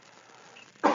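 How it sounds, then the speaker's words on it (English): A single short cough bursts out near the end after a quiet stretch, close and fairly loud. "This is the marijuana cough."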